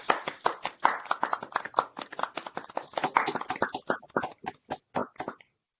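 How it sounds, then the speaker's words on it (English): An online audience at a mathematics seminar claps in a loose, uneven round of applause, with individual claps thinning out and stopping after about five seconds. "let's give a round of applause to Cheyenne."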